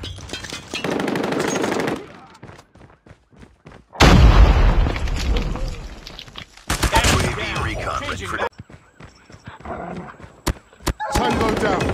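Gunfire from the HS2126 shotgun in the Call of Duty Mobile game, loud, dense bursts of shots in clusters with brief quieter gaps, alongside other in-game combat sounds.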